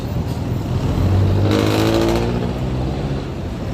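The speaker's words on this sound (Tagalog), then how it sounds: "Talagang marami talaga dito yung sasakyan." Heavy road traffic in a congested Philippine street, many cars and motorcycles rumbling and revving close by in a continuous loud roar, with one engine swelling past midway.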